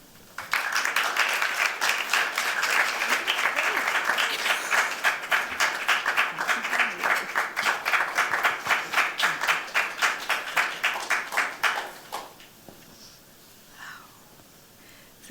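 An audience warmly welcomes author Dr. Lauret Savoy with steady applause from a seated crowd, a dense even patter that thins into separate claps and fades out toward the end.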